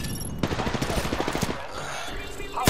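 Rapid automatic weapon fire in the battle royale shooter Apex Legends, a quick burst of evenly spaced shots lasting about a second, loud and close, followed by game noise and someone talking.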